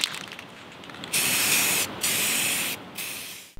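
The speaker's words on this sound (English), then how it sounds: "we're gonna spray down our paint onto the headlight." Spray paint hissing onto a car headlight housing in about three sustained bursts of a second or so each, loud and close, with short pauses between them.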